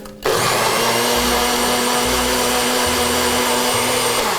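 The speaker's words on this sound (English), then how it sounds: "We're gonna blend this up till it's nice and smooth" A kitchen blender purées a chipotle sesame adobo sauce, starting abruptly with a loud, steady motor whine and whirring blades that runs continuously and close up, with slight shifts in pitch as the contents smooth out.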